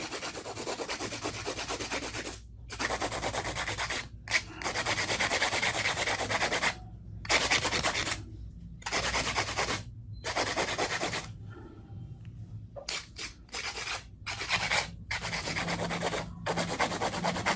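Steady abrasive rasping of a hand nail file on a fingernail, continuous back-and-forth strokes broken by several short pauses, close up with no talking.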